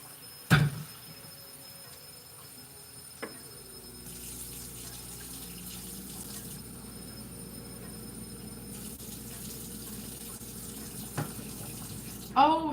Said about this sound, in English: So we're gonna put some cold water in here.